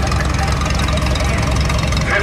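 A vintage 1953 New Standard tractor engine running at a steam and gas engine show in Baraboo, Wisconsin, a steady loud rhythmic knocking chug close by, with people talking over it.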